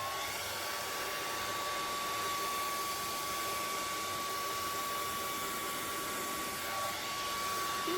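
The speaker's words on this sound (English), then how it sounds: "Let's try the hairdryer." A hair dryer blows steadily and loudly on acrylic pour paint poured onto a tray, a constant whooshing airflow with a faint motor whine and no talking throughout.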